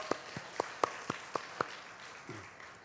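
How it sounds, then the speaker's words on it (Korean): A Sunday church congregation claps in thanks during the worship service: a short run of about seven distinct, fairly faint claps in a steady rhythm, then quiet room tone. "우리 감사하다고 박수하겠습니다."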